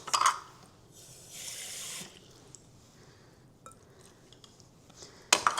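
Tap water runs into bread dough being mixed at home, a steady pouring rush for under a second, then clinks and handling noises with a sharp splash near the end.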